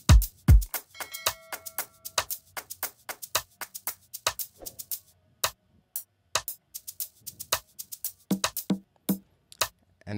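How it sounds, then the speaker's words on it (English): Rim shots in a drum beat for an Afrobeats track, sharp clicky hits repeating in a loose syncopated pattern, loud and close with nothing else playing. "and then the next instrument is a rim"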